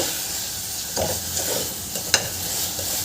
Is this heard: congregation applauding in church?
no